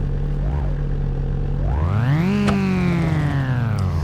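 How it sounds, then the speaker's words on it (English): In the video game BeamNG.drive, a loud car engine drones steadily, its pitch climbing sharply as it revs up, then holding and easing slightly lower, with no talking. "This engine's too loud."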